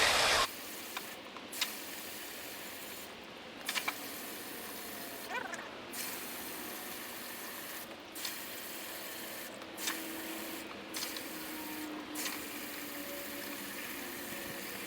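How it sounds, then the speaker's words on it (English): Water from a garden hose, not a pressure washer, sprays steadily onto a car's cold air intake filter, a continuous soft hiss with brief interruptions as the flow shifts. It stays fairly faint throughout, with no clear talking. "we're going to take a hose, not a high pressure hose and not a pressure washer, but we're going to just shoot some water from the inside"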